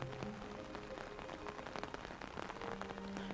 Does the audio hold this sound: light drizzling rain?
yes